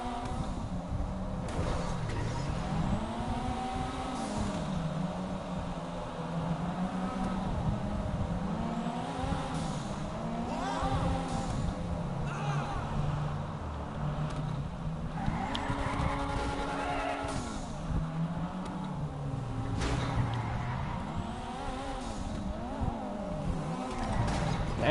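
A Toyota Supra (Jester Classic) drives in GTA 5, its engine revving up and down in repeated gear-change cycles with tire squeals and skids, loud and continuous throughout.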